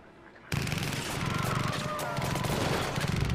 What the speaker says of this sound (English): The impactful sounds of his machine gun fire.